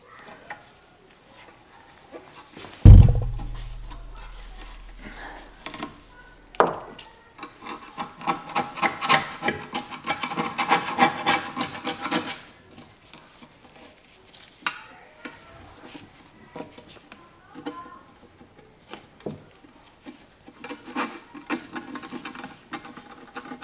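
A screwdriver scrapes an old door gasket off a wood, pellet or coal stove. A sharp knock comes early, followed by sustained rough rubbing and scraping in close, uneven bursts.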